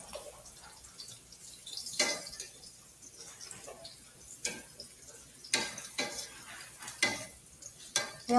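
Garlic dropped into a hot pan and stirred for a goat meat dish, giving a steady soft sizzle broken by several sharper stirring scrapes and clatters, fairly close and with no talking.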